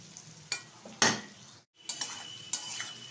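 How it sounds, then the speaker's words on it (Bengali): Ivy gourd and potato pieces frying in a pan, a faint sizzle broken by a few sharp spatula scrapes and clinks against the pan, each stroke distinct and close. "ভালো করে ভেজে নিতে হবে।"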